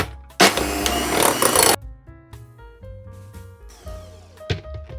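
Lemon curd whizzed into a cake batter with an electric mixer for lemon angel food cake: a loud, dense whirring burst lasting about a second and a half, then quieter kitchen clinks and knocks.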